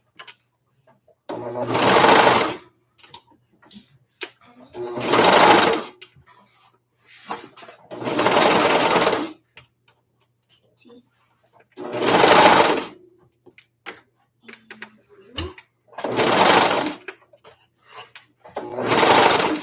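A home sewing machine hems a small lap tee in repeated bursts of fast stitching, six or seven runs of a few seconds each separated by short pauses, close and fairly loud with no talking.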